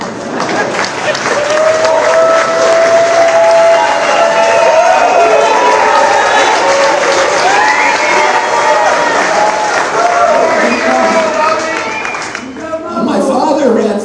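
Large crowd at a New York town hall event for RFK's 2024 campaign, with loud, sustained applause and cheering and shouting voices, easing briefly before swelling again at the end.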